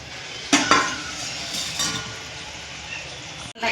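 Potatoes tipped into a simmering gravy for dum aloo and stirred in a pot, with two quick clattering knocks near the start, then a soft scraping stir over a low bubbling hiss.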